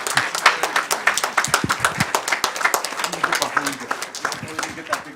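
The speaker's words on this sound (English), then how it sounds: "So let's give them another big round of applause." A crowd at a city council meeting claps loudly and continuously, dense rhythmic hand claps close by with some voices mixed in throughout.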